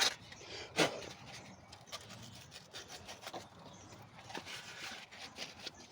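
Soft rhythmic rubbing and scraping of fine sandpaper on a surface, repeated short strokes, quiet and close, with a sharper knock near the start.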